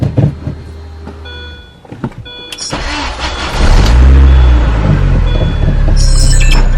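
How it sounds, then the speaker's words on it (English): An R53 car engine cranks and fires after a spark plug replacement, with faint clicks before the starter whirs and the engine catches into a loud, close, rising idle. "let's go ahead and start this one up"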